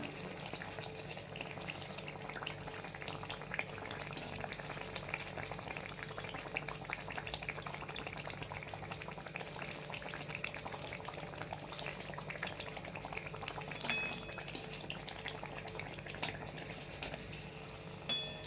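Pakon pitha cakes fry one at a time in a small wok of hot oil, giving a continuous soft bubbling and sizzling with scattered faint crackles. The sound stays steady and quiet throughout, with no talking over it.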